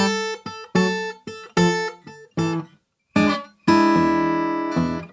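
Delta blues guitar turnaround after one beat of A, a string of sharp plucked notes and chords with short decays, a pause, then a final ringing chord that fades out, close and alone.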